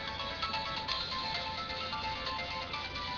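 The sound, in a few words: mobile phone ringtone music, incoming call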